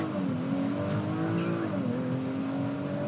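A 2019 Audi RS4 Avant engine droning loudly as the car accelerates and brakes, its pitch sliding down midway, with faint tire noise.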